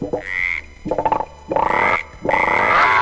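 A cartoonish toad croaks in the video game Hell Yeah!, loud and close, in three or four bursts of rough, throaty croaking with no one talking over it.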